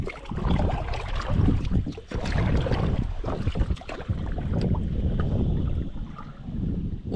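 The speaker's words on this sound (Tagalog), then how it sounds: "Kami Nining sakay ng bangka." A small wooden boat, a bangka, moves on shallow water. Its steady churning wash and slapping water run close and continuous, with wind noise on the microphone and some sharp knocks.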